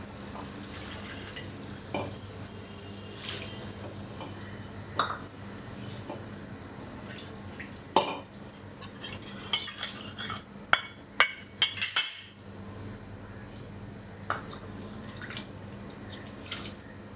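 Water pours and splashes into a cooking pot of uncooked rice and chicken, with stirring clinks and scraping of a utensil against metal, a soft sizzle underneath throughout.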